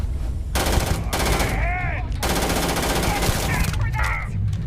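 Rapid automatic rifle fire from first-person gunplay in the space RPG Starfield, loud continuous bursts with short pauses and ringing metallic tails, filling most of the moment.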